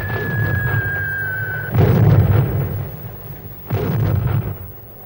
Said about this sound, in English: Even more terrifying than the crash of the explosions was the noise the shells made as they flew through the air.